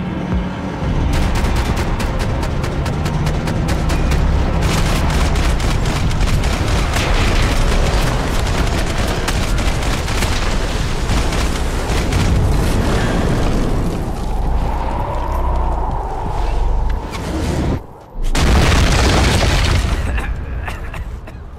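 Max Payne 3 firefight: dense rapid gunfire and heavy booming blasts roll on loudly and continuously, briefly cut out, then return with another big explosion.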